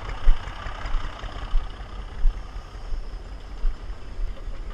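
A diesel Ursus 3512 tractor engine runs at idle with a steady low throb and uneven pulsing knocks, close and fairly loud, with no talk over it, out in a meadow before mowing.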